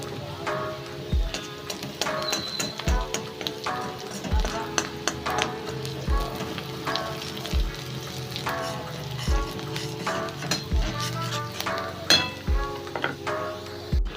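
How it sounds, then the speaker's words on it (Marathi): Onion frying in a pan for cluster bean curry, a steady sizzle broken by regular taps and clinks of a spoon against the pan, fairly close and without talk. "हे बघा आता कांदा तळत आलाय"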